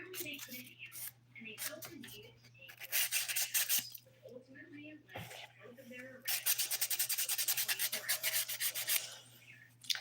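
A file smooths a dip powder nail in bursts of quick, scratchy back-and-forth strokes, close and crisp, with a person talking between the bursts.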